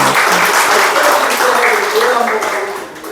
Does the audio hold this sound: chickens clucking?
no